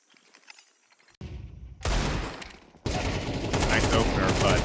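Gunfire during a professional Counter-Strike esports match at IEM Krakow, starting with sparse quiet shots, then building into loud sustained bursts of rapid automatic fire and rattling volleys, with commentary voices mixed underneath.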